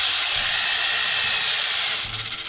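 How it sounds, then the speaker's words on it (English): Power drill bit boring a small hole into a hollow plastic toy head, a steady close, loud whirring grind that continues without break, shifting to a rougher pulsing tone near the end. "I'm going to take my drill bit"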